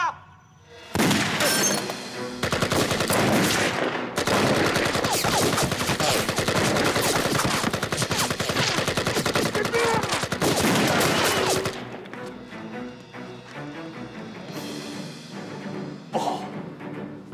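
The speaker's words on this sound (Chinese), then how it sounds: "哪里打枪？" Sustained bursts of rapid gunfire crackle loudly during a prison riot scene in a Chinese spy film, dense volleys of shots and shattering filling the first stretch before giving way to quieter rumbling and scattered impacts.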